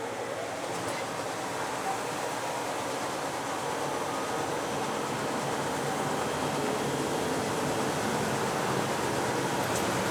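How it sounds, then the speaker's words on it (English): A Horizon iCE Stitcher SPF-2000 booklet-making machine runs at high speed, giving off a steady, dense mechanical rush and whir that holds at an even level throughout. "So now the machine is running at a very fast speed."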